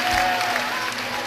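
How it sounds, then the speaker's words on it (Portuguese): A church congregation applauding during worship, with a short burst of dense, loud clapping that fills the room, with faint voices mixed in. "Aplauda ao Rei Jesus"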